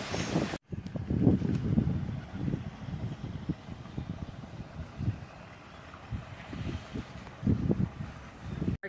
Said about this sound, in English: Oh, it's got a bit windy.